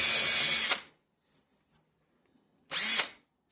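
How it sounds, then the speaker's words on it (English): Two loud bursts of a power barrel sander working a Colt Commander 1911 part during a restoration, the first running about three-quarters of a second, then near silence with faint handling clicks before a second burst of similar length. "I spent about 30 minutes with that barrel sander doing this."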